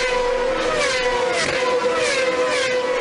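Onboard sound of Lewis Hamilton's 2014 Formula 1 car, a loud steady high-pitched engine whine with shifting pitch sweeps as it revs through gears, continuous for the whole stretch with no talk.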